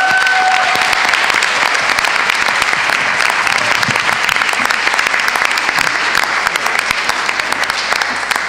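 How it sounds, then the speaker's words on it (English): A loud, sustained round of audience applause at a board of education meeting, dense clapping from many hands continuing evenly throughout. "So if we could just give them a round of applause"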